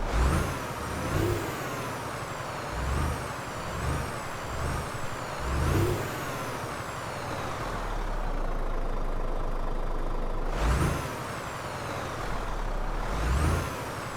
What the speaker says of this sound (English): Nice sounding engine, actually.